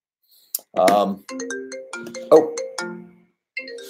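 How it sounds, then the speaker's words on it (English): A mobile phone ringtone sounds loud and close: a bright, tuneful electronic melody of short stepped notes that repeats in phrases with brief pauses between them, and nothing else is heard alongside it. "Phone's blowing up."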